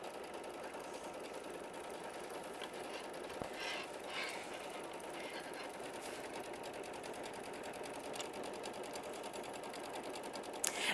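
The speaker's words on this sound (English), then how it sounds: "you're going to sew machine stitch step 1 directly on whatever you have chosen to hoop as your batting or stabilizer" Embroidery sewing machine stitching through hooped batting or stabilizer, a steady, continuous mechanical whir with fast rhythmic needle chatter, close and even in level throughout, with no talking.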